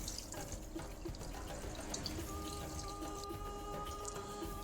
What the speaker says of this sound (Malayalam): ഇനി ആവശ്യത്തിന് വെള്ളം ഒഴിച്ചു കൊടുക്കുക.